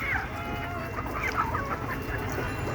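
Free-ranging native desi chickens clucking in a steady, overlapping murmur close by, continuous through the whole stretch with no talk.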